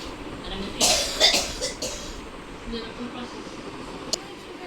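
A few coughs near the start, a short burst of rough hacking followed by quieter sounds, with faint background noise.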